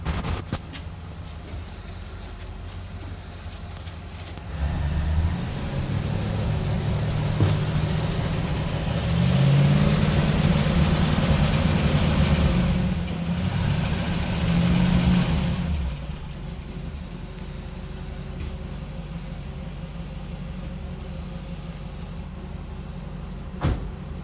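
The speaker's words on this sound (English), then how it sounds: "So we're going to give it a little gas and see if that smoke clears out." A 1967 Camaro RS engine on its first start, idling and then revved up for around ten seconds of louder, rising throttle before settling back to a steady idle.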